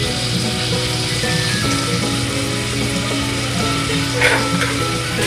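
Pork sizzles and fries in its own rendered fat in a pan while cooking for pinakbet, a loud, steady crackle running throughout with a brief scrape of stirring near the end.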